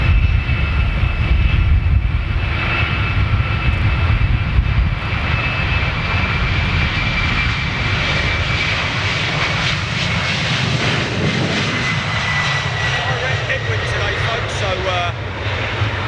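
Boeing 747 jet airliner taking off on its final flight, a loud continuous engine roar close by that slowly eases, with people talking over it.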